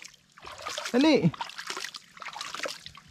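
Bagwis the bird splashes while bathing in water, making a quick burst of splashing and trickling that stands out from quiet surroundings, with a person calling out nearby.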